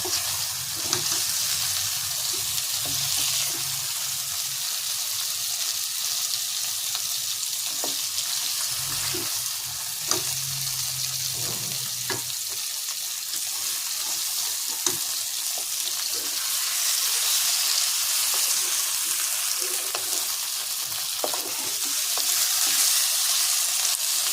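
Steady frying sizzle of potatoes in hot oil for a home-style Bihari and Bengali mutton curry, close and continuous, with occasional scrapes and stirring clatters.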